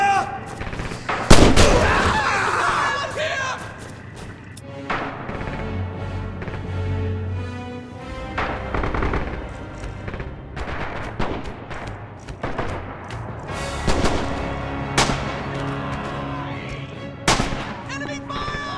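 Enemy gunfire and artillery in the World War II shooter Red Orchestra 2: Heroes of Stalingrad, with sharp rifle and machine-gun bursts and booming blasts scattered through a dense battle din, while voices shout over the fighting.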